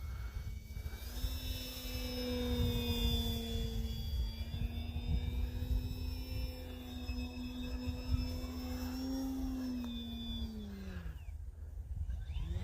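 An E-flite Ultimate 3D RC model airplane flies over a snowy field, its electric motor whining in a steady tone that rises and falls as it passes, fairly distant over wind noise, ending in a quick downward sweep.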